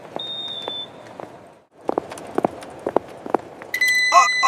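An airport security metal detector gives a short electronic beep near the end, after quiet footsteps and light clatter in a security checkpoint.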